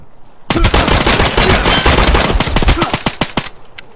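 Automatic gunfire in the shooter game Escape from Tarkov, a loud, close burst of rapid shots lasting about three seconds and then tapering into a few spaced final rounds.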